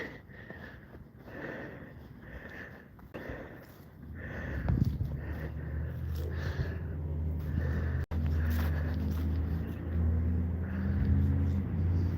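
A truck idles and rumbles nearby on a dark rural roadside, its low engine drone growing louder and steadier partway through, with a brief thump and a faint rhythmic ticking earlier.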